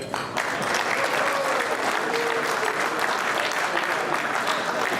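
Sustained audience applause at a community unity dinner, dense steady clapping from a large crowd in a hall, loud and continuous throughout with no speech.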